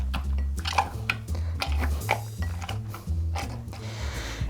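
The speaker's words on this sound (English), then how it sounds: "we're just going to mash it up really good" Fresh strawberries being mashed hard with a wooden muddler in a glass for a sparkling strawberry margarita, giving repeated close squishing thuds and clinks against the glass in a steady rhythm over a low background hum.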